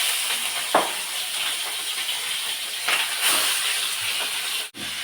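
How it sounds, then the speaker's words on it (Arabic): Chicken pieces frying in hot fat give off a steady, loud sizzling hiss throughout, with occasional pops and a brief dip near the end. "بينا الفراخ هننزل بقى بيها."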